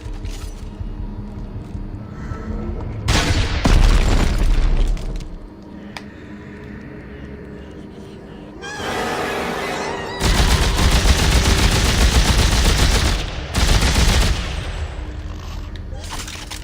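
Gunfire bursts in the Dead Space 3 video game, loud booming shots in several clusters with a rumbling low end, separated by quieter stretches of ambient game noise.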